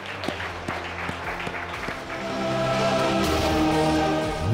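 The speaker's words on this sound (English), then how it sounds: "Let's have a round of applause for Mr." A studio audience applauds a guest, building from scattered claps to a fuller, steady ovation while music plays underneath.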